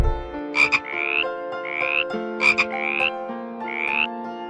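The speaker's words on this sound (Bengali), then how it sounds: "ইঙয়ে ব্যাঙ।" A frog croaks in three evenly spaced pairs of short, rising calls, close and distinct, with soft music underneath.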